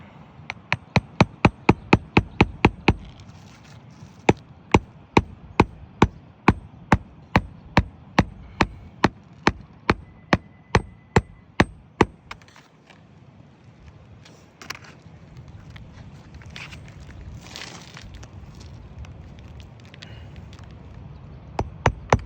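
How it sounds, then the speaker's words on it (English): Sharp, evenly spaced hammer blows ring out close by, about two per second, then stop, leaving quiet background noise and a few final strikes. "I'm trying to use shorter hammer strokes"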